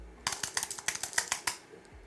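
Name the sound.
typing on a standard Apple iMac keyboard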